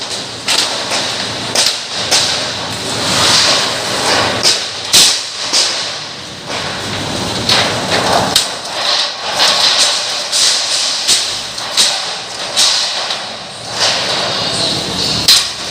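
Workers flatten the sharp edge of a galvanized iron roofing sheet with a crowbar or sledgehammer before folding it, at an LRT Line 1 site in Manila; repeated sharp metallic strikes land at irregular intervals over constant loud outdoor noise.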